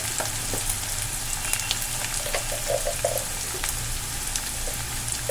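Matar paneer ingredients fry and sizzle steadily in a pan over medium heat, with occasional scraping stir strokes; a continuous close crackle with no talking.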